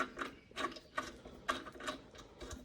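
A bolt being turned into a heavy-duty threaded insert during thread repair, giving a series of close, dry metallic clicks and ratcheting ticks in uneven bursts with no talk.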